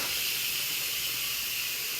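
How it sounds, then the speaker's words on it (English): Hot steam hisses steadily as it is released from a pot while potatoes cook, a loud, continuous, close broadband rush that never lets up, with no talking. "That is hot steam."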